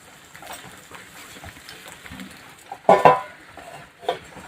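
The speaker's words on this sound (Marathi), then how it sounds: "आता आपण याच्यावर झाकण ठेवू" A metal lid set onto a kadhai on a gas stove over a low flame, giving one sharp clattering knock with a short rattle and a smaller tap after it, close, over quiet kitchen background.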